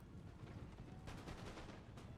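Musket volley gunfire from massed infantry in a Napoleon: Total War battle, a faint, dense crackle of many shots rolling together in a short, continuous burst.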